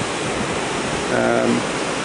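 Sea wake streams away behind the Celebrity Silhouette cruise ship, a broad steady rush of churning water heard from the upper aft deck, with a brief voice passing over it.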